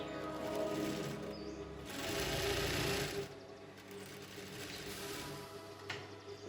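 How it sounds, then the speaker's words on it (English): A sewing machine runs steadily, stitching the outer shirt yoke to the front pieces of a casual shirt, with a continuous close hum and mechanical chatter that swells and eases over several seconds. "I want to stitch that first to the front pieces."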